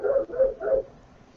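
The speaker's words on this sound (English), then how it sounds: "Oh, dog." A dog barks three times in quick succession, fairly close and moderately loud, with short woofs and a brief quiet tail afterward.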